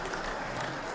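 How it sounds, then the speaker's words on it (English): Applause for first responders at a county luncheon, a brief dense patter of many hands clapping in a room, steady and moderately loud. "Met with applause and gratitude"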